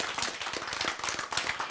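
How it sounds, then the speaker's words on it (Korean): A small audience at a Bible-and-science lecture claps briefly, a quick cluster of overlapping handclaps at moderate loudness. "박수"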